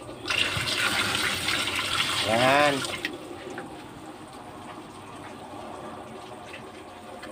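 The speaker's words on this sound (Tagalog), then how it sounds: "buhusan ko ng tubig" Water pours and splashes loudly for about three seconds with a rising gurgle, then cuts off to a quieter hiss while a voice speaks briefly.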